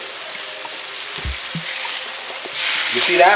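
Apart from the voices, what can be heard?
salmon searing in a frying pan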